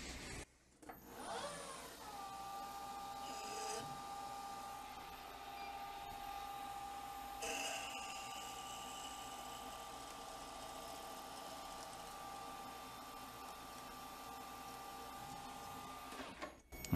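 A lathe drills a 3.9 mm stepped hole in a small metal plunger part, making a quiet, steady machine whine that holds evenly from start to finish. A brief shift in the noise comes near the start and again partway through.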